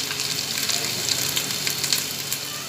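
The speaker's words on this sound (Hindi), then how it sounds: "ये अब मैं मिर्च वगैरह इसमें डाल दूँगी और इसको ज़रा पकने दूँगी" Chilies and spices fry in hot ghee for chicken nihari, giving a steady, close sizzle with faint crackles and occasional stirring.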